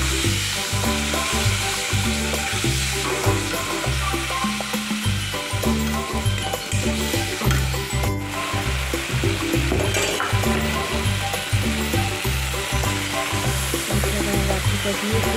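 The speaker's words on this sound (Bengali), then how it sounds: "কাঁচা লঙ্কা বাটাটা দিয়ে ভালো করে একটু কষিয়ে নেব।" Green chili paste sizzles steadily in a hot pan while being sautéed for a koi fish curry with cauliflower and potato, a constant close frying hiss running through the clip.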